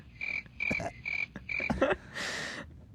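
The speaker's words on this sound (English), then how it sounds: "Crickets." Cricket chirping sound effect played as a comedic gag on a podcast, a steady high-pitched chirp repeating in short regular bursts, with other brief noises mixed in.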